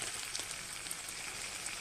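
Chicken sautéed with spice paste in a pan over low heat, a dense, even sizzle and crackle filling the whole moment, close and steady, with no speech.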